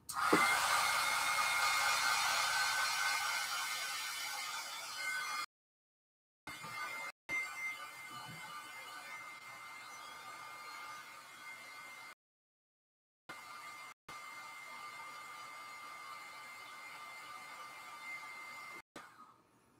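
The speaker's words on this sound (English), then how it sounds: "I'm going to have to probably hit it with the heat gun one more time" A heat gun blows hot air onto a damp craft card, a steady loud whirring roar that runs for several seconds, cuts off briefly twice, then resumes and runs on.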